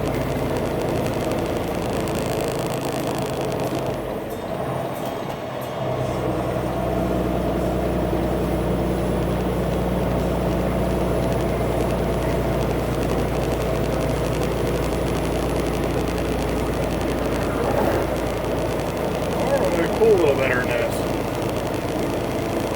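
A truck engine with a single 10-speed transmission cruising in sixth gear, a steady, loud, low drone that holds throughout with a brief dip partway through.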